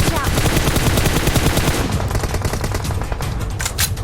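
Dense gunfire from PUBG Mobile gameplay, with rapid shots and bursts packed together loud and continuous over the whole stretch, thinning slightly toward the end.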